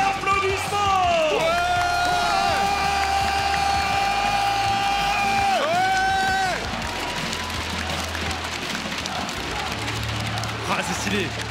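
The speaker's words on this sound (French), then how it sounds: "Un tonnerre d'applaudissements." Esports arena crowd at a League of Legends French league match cheering and applauding loudly as the teams are introduced, a steady roar with whoops, while a caster talks over it.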